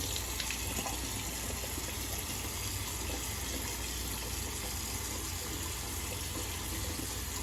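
Water runs steadily from a tap while rinsing after a shave with an Ever Ready Streamline safety razor, a constant moderate gushing hiss with no talking.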